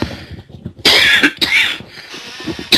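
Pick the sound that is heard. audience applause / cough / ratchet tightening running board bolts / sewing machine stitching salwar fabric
cough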